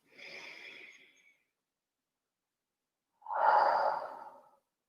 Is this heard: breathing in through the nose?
yes